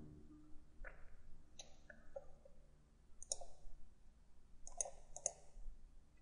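Mouse clicks in SolidWorks or Inventor CAD software come as sparse, sharp single and double clicks, close and fairly faint, against a quiet room.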